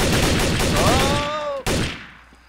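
Rapid gunfire bursts in the video game Trouble in Terrorist Town, a dense loud volley with a sharp final shot before it cuts off and fades.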